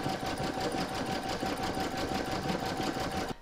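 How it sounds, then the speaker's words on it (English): An embroidery machine satin-stitches the inner edge of a Fourth of July in-the-hoop coaster, giving a steady, close, continuous rapid whirring with no pauses and no talk. "Next is round number 9, and that's going to do the satin stitching around the inner edge there."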